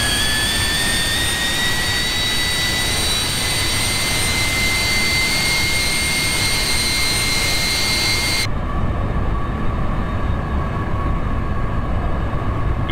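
An aircraft engine in the X-Plane 10 flight simulator drones as a loud, constant roar with steady high whines, unbroken for the whole stretch and without talk.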